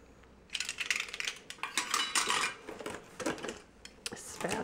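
Pink and white plastic toy utensils from a kitchen cookware playset rattle and clack, handled up close in a quick series of light, clattering taps.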